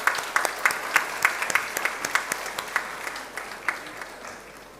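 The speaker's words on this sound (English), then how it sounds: "So give yourself a good round of applause." An audience at a university festival inauguration claps together in a steady burst of applause. Individual claps stand out sharply at first, then the applause thins out and fades without any voices.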